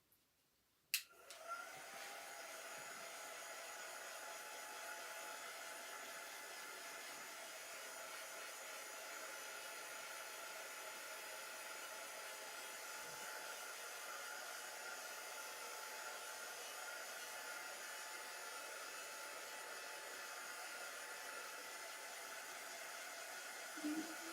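A hair dryer clicks on and blows steadily at close range to dry crafted floral pieces, a loud continuous whooshing whir with no talking over it.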